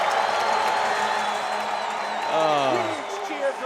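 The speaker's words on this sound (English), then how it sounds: "Huge cheer for Pardo" An indoor soccer crowd roars steadily for the player Pardo after a run of defensive saves, a dense, sustained cheer with a commentator's voice speaking over it.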